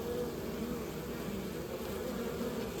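Honey bees fanning at a hive entrance, with grafted queens returning: a close, steady droning buzz of many wings, unbroken and even throughout.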